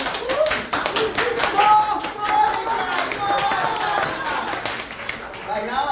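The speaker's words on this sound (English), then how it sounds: "And everyone began to clap their hands." An audience at a storytelling performance of a Caribbean folktale claps hands in a lively burst, sharp repeated claps under and around a speaking voice.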